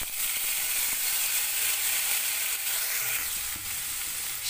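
Ground cumin paste goes into hot oil in a pan with whole dried chillies and cumin seeds, giving a steady, moderately loud sizzle close by with occasional light scraping clicks.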